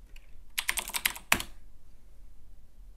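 Close, crisp computer keyboard typing, a quick run of about eight clicks and then one harder keystroke, followed by quiet room tone.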